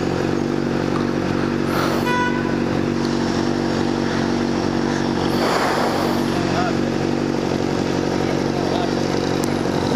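A loud motorcycle engine idles and revs with a rough, throaty exhaust, close by, with voices talking briefly over it.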